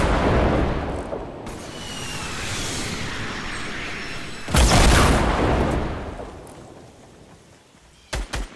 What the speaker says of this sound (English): Oh, rockets! Watch out!